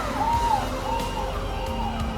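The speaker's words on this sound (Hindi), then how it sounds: "अब ये 2 फायर ब्रिगेड यहाँ से जा रही है" Two fire brigade trucks pull away after a fire involving old vehicles, sirens wailing in repeated rising and falling sweeps over engine rumble and street noise, moderately loud and steady.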